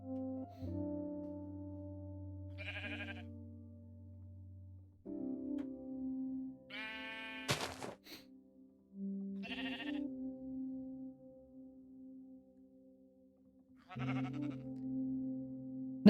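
Sheep in the video game Minecraft bleat repeatedly, four or five distinct nasal calls spaced a few seconds apart, clear and close over a quiet steady background tone, with no talking.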